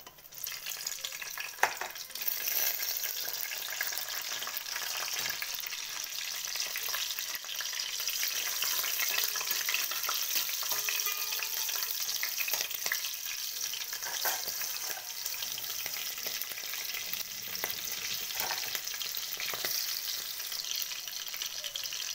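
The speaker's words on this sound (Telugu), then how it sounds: "చిల్లీస్ కొంచెం వేగాక" Chillies frying in hot oil in a pan for a fish curry (pulusu): steady close sizzling and crackling, with occasional stirring scrapes and no talk.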